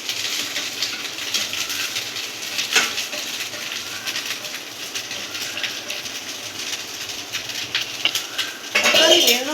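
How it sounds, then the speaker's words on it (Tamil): Rice is tossed into a hot pan for fried rice and stirred, giving a loud steady sizzle with repeated scraping and metal clatter of the spatula, busier near the end. "இப்போ ரைஸ் போடுறாங்க."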